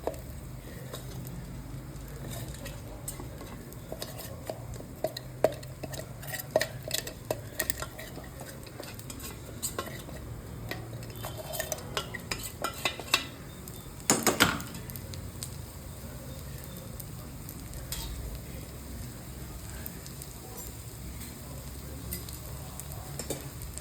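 Sabudana khichdi being stirred in a pan to coat it with crushed peanut powder, a steady low scraping and stirring with scattered spoon clicks on metal and a faint sizzle underneath, no talking.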